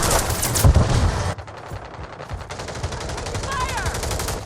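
Rapid automatic gunfire rattles in a Call of Duty Modern Warfare III multiplayer match, loud dense bursts with sharp repeated reports and a brief lull, mixed with game effects and a voice calling out.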